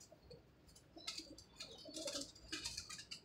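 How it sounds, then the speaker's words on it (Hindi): Pigeon wings flap in a few bursts, a prized numbered bird being handled and released by its keeper, with faint cooing and chirps between the quick, papery flurries. "लो जी ये 10 नंबर कबूतर है जी, उस्ताद जी के बड़े नामवर कबूतर है।"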